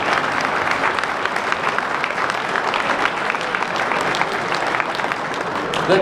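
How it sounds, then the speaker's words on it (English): A crowd gathered in a state capitol rotunda applauds loudly, sustained thick clapping that stays full and even from start to finish, echoing in the large hall. "Give yourself another round of applause"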